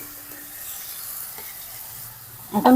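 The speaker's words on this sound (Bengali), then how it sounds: "খুব ভালো করে কষিয়ে নেব" A spice mix of chili paste, salt, turmeric, tomato, ginger-garlic paste and cumin paste sizzles softly in a pan for mutton head curry, a low, even fry ending in a sharper clatter of stirring.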